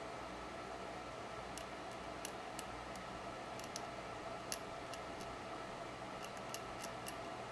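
Small cuts into a plastic EMD SD45 model locomotive truck, heard as faint, sparse ticks and snips spread across a steady hiss, close and quiet with no voices.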